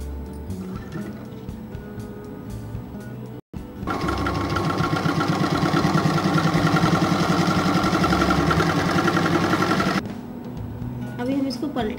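Sewing machine stitching the hem of a semi Patiala salwar, starting after a quiet lead-in with low handling noise, then a fast, even run of rapid mechanical chatter for about six seconds before stopping.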